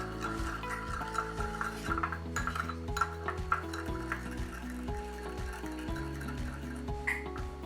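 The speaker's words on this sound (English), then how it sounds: "Mix it up." Ingredients with vegetable oil are mixed in a bowl for pizza dough, with close, continuous rubbing and stirring scrapes over steady background music.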